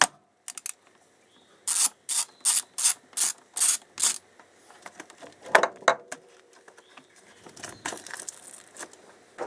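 A ratchet wrench loosens a 10 mm bolt on a wire harness bracket at the starter of a 1999 Honda Civic 1.6, giving a crisp series of about eight rapid clicking bursts, followed by fainter scattered clicks and mechanical rattles.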